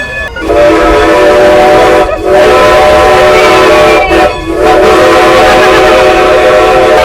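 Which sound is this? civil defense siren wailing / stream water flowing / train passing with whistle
train passing with whistle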